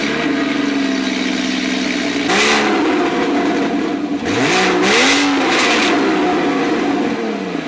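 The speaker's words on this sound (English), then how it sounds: "You have your signature center exhaust out back, and let's check out how that sounds." Porsche Boxster engine barking through its center exhaust, idling then blipped in several sharp revs that climb and fall back, loud and close with no talk.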